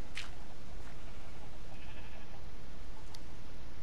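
Sheep in Minecraft give a few short bleats over a constant hiss of game background noise, with no talking.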